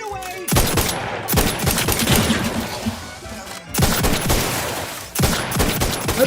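Sustained automatic gunfire in the video game Outer Worlds 2, dense rapid shots rattling continuously and loudly, with brief gaps, close to the listener.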